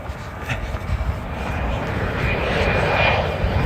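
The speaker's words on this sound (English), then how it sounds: "Here comes a plane landing. It's gonna have to bank hard." A fixed-wing airplane on final approach banks hard before landing, its engine roar swelling steadily louder as it passes near overhead, heard alone.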